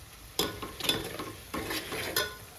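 Goat brain (bheja) frying in a pan in a village kitchen, a quiet sizzle broken by several stirring scrapes and clinks.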